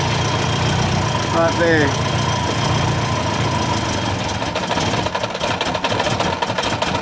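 A Subaru Forester engine idles steadily with a faint puffing from an exhaust leak at a weld, a continuous low rumble close by while someone talks briefly over it.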